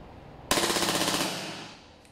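A WE Glock 18 Force T5 gas-powered toy pistol fires a single full-auto burst of BBs, a sharp, rapid, evenly spaced string of close, loud cracks lasting under a second before the gas hiss trails off.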